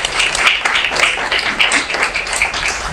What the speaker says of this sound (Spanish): Un fuerte aplauso para nuestro panelista Fred Horner.